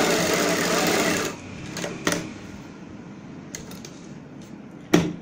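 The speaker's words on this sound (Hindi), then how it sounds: "अब हम एक पैर का गैप रखते हुए दूसरी सिलाई लगाएंगे।" Sewing machine stitching a seam on a palazzo pant bottom, a rapid whirring run of stitches that stops after about a second, followed by faint clicks and a sharp knock.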